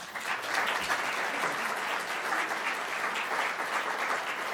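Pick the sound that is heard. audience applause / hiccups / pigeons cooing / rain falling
audience applause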